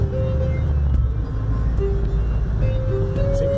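Chevrolet Corvette engine accelerating, heard as a steady deep low rumble with rising and shifting tonal whine, close and loud throughout.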